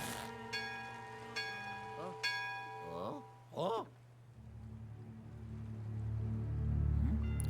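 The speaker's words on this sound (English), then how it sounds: "ring the bell for service" A service bell in the Luigi's Mansion 3 video game rings with several clear metallic dings at intervals, mixed with chirpy game sound effects and background music.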